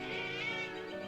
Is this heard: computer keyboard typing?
no